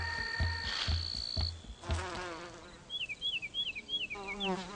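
Solitary bees buzz around garden flowers in short, faint, wavering hums that come and go. Soft background ticks and bird-like chirps run through the quiet outdoor setting.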